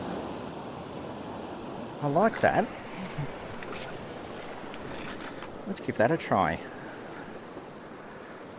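Ocean waves wash softly against a rock pool at dusk, a faint steady surf under wind noise, while someone speaks briefly twice over it.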